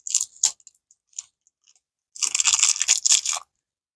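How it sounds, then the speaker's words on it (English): Peppermint chewing gum from a cold-weather military ration being chewed close to the mic: a few sharp crunchy bites at first, then a dense, continuous stretch of wet, crackly mastication lasting over a second. "Let's try our chewing gum."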